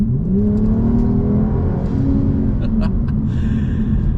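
A Volvo T6 engine revs up and pulls hard, its rising drone climbing steadily with road rumble underneath, heard from inside the cabin.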